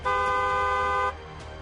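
A vehicle horn gives one steady, loud honk of about a second, then cuts off, leaving a quieter hum of traffic or engine behind it.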